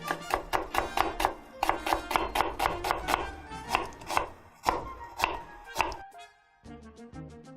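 A knife slices an onion into thin strips on a cutting board, a fast steady run of crisp chops that pauses briefly, resumes, then gives way to a softer tapping near the end; no talk.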